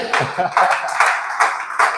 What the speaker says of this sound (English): Let's clap for me again.